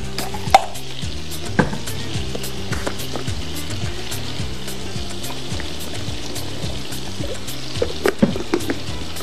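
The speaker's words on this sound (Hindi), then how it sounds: "ठीक है, थोड़ा सा पानी डालेंगे।" Masala gravy in a pan sizzles steadily, with a few sharp bursts and clinks as water goes in and the mixture is stirred, a close, moderately quiet frying hiss throughout.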